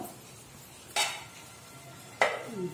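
A lid is set over a pot of raw bananas boiling in water, giving two short metallic clanks about a second apart against a faint kitchen background, with no talking.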